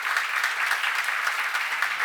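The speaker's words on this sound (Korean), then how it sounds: "박수야. 이렇게 돼야 돼." Congregation at a church seminar clapping, a loud, close burst of many hands applauding continuously with a slightly uneven rhythm and no speech over it.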